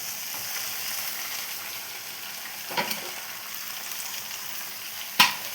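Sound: gongura leaves added to frying tempering

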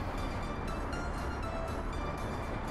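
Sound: passenger train in Workers & Resources: Soviet Republic video game

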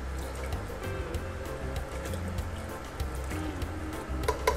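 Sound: adding water to goto rice porridge while cooking

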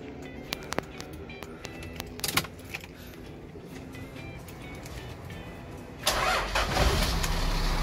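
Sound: Toyota Land Cruiser VX80 turbo engine starting and running

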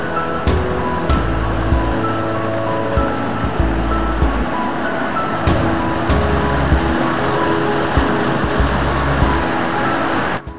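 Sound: stream rushing through a narrow channel

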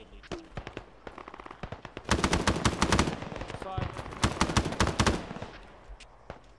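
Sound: gunfire from video game Arma 3

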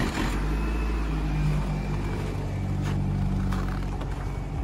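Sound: 2017 Nissan Rogue SV engine started by remote start

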